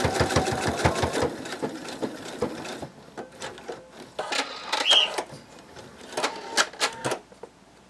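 A sewing machine stitches a bunny plush in quick dense bursts, running steadily, then breaking into short separate runs as it goes back over skipped stitches, close and fairly loud with no talking.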